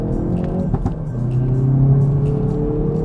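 On a downshift, the Hyundai i30 N's 275 hp engine blips its revs to match, giving short throttle bursts over a steady, close, rumbling engine drone, with no talk.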